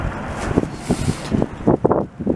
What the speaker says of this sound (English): you see the wind's coming from the east